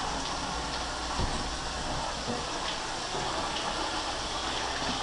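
Hot water gushes steadily into a bathtub, a constant loud rushing wash with no pauses, heard close by.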